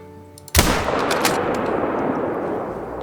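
A single loud, close rifle shot fired at a side-striped jackal in the hunting game Call of the Wild, a sharp crack followed by a long rolling echo that fades slowly over several seconds.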